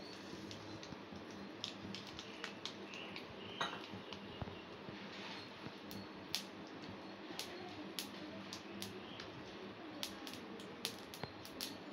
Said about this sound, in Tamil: கடுகு நல்லா வெடிச்ச உடனே